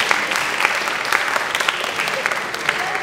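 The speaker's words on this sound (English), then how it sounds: "One more round of applause to everyone." A school audience at a high school ten-minute play event gives a round of applause, steady close clapping with distinct individual claps standing out and some voices underneath.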